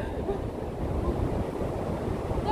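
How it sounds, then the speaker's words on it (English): Ocean surf and wind on a Florida fishing beach, a steady, loud low rumble of waves with wind buffeting the microphone and no clear voices. "I can't do anything about the wind and the freaking waves."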